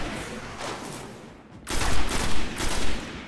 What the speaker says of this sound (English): Then we got buddies shooting me up top and hitting me.